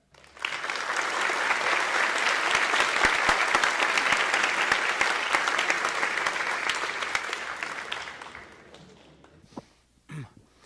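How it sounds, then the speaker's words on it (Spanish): Audience applause welcoming Richard Stallman to a talk on free software, a loud sustained ovation for about eight seconds that fades into scattered claps and a brief cough near the end. "Quisiera pedirle un fuerte aplauso para recibir a Richard Stallman."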